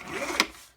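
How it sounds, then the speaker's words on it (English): A paper trimmer slices along a paper edge in one brief, soft, swishing pass with a small sharp click near the end, heard close up in quiet surroundings. "let me even this out on my trimmer."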